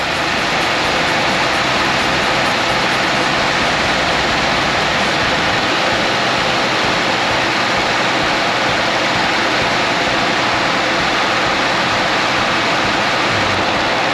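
A 2009 car engine idles steadily after overheating from a failed water pump, its cooling fans blowing at full blast in a constant, loud broadband rush with a low engine rumble underneath, unbroken for the whole stretch.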